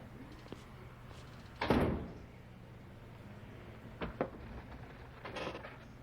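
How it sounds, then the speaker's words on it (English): A door closes with one fairly loud thud in an office, followed by a couple of softer knocks and faint movement; there is low room hum and no speech. "Close the door on your way out."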